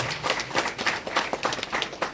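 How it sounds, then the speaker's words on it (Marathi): Audience at a Maratha community meeting clapping in a brief, uneven burst of applause, a fairly close group of hands beating irregularly. "आपण सर्वांनी टाळ्या वाजूया"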